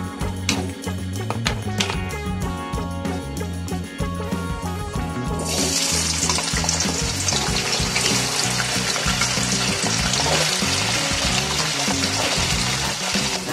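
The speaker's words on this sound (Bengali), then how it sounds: "এখন আমি এই তেলের মধ্যে আমি আলুটা ভেজে নেব।" Potatoes go into hot oil for soybean kofta curry, and a loud, steady sizzle begins partway through over a melodic music bed.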